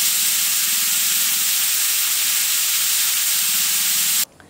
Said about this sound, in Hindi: यहाँ पर 10 से 12 कुकर की सीटियाँ हो गई है